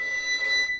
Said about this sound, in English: Just the first finger presses down the string and the fourth finger plays the flageolet.